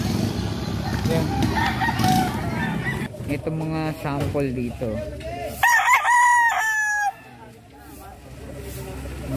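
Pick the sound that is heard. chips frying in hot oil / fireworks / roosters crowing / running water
roosters crowing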